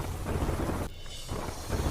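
Heavy downpour with thunder rumbling over Kadi in Mehsana, Gujarat, a dense steady wash of rain with a brief lull in the middle, filling the short span without voices.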